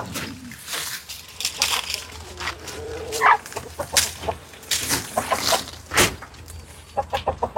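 Chickens in a forest garden in Borneo cluck in short, irregular bursts close by, scattered through ambient outdoor noise.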